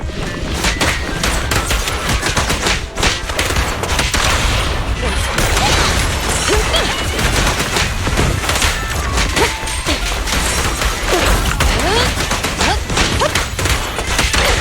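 Dense, continuous gunfire and crashing impacts in the video game Zenless Zone Zero, loud and chaotic throughout with no clear pauses between shots.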